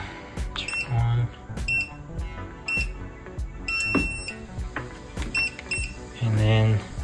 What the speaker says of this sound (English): pressing the mute, it will stop the beeping noise when you are pressing the button